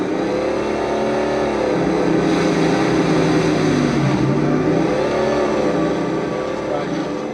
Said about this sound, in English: you can hear the growl of the two-stroke. Then you got this really growly, 4-stroke, huge sounding exhaust.